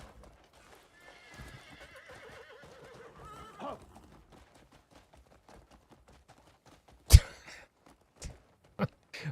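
A horse in a bounty-hunting video game gives a clear neigh, followed by a few scattered hoof clops, heard alone over a quiet background.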